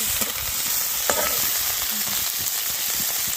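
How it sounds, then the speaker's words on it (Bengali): Dried fish (shutki, including small puti fish) fries in a pan with a constant dense sizzle and crackle, punctuated by a few scraping stirs and occasional sharper pops, close up and without talk. "এখানে মাছ এখানে শুকি মাছ ভাজা করছে"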